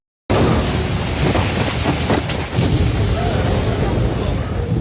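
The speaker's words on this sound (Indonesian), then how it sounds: "Serangan kutukan berwarna hitam melesat ke arah Anos lalu menciptakan sebuah ledakan dan dentum" A loud explosion from a black curse attack in an anime bursts in suddenly, then rumbles and roars as a sustained, dense blast that barely fades over several seconds.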